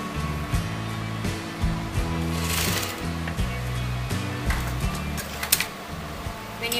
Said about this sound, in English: I'm going to sew this on the margin